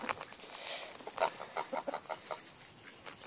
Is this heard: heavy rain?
no